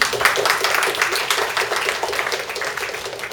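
An audience at a literary festival gives a sustained round of applause, a dense, even wash of clapping from many hands that carries steadily throughout without pause.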